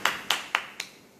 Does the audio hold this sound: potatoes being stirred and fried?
no